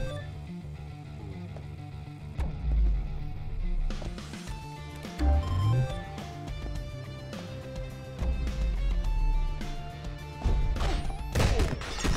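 In the action game Mr. Shifty, glass smashes repeatedly. Several sharp crashes and thuds come in irregular bursts over a continuous game soundtrack.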